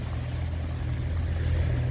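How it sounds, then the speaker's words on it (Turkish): Rain patters steadily on a car driving toward a market in İnegöl, Turkey, as a dense wash of fine drops over a constant low engine and road rumble, with no talking. "Öyle güzel yağıyor ki. Pıtır pıtır."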